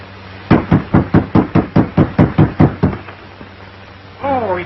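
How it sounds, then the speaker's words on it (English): A fist pounds hard on a door about a dozen times in a quick, even rhythm, loud and close. After a short pause, a voice begins to speak. "Knock again, louder."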